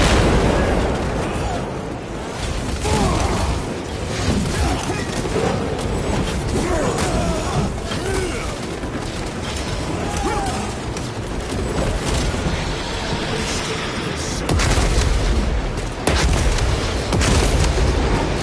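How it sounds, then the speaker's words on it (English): Crack grenade going off amid combat in Warhammer 40,000: Space Marine 2, with a Terminator involved. Booming blasts and heavy mechanical clatter fill a loud, continuous battle soundscape, and shouting is faintly mixed in. "Using a crack grenade!"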